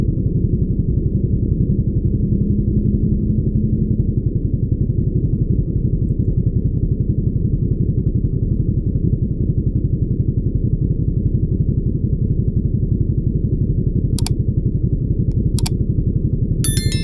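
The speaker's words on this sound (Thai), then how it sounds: "Z900นะครับ4 สูบเสียงเพราะเลย" A Kawasaki Z900 four-cylinder motorcycle engine drones steadily and loudly throughout, a smooth continuous hum with a few brief clicks near the end.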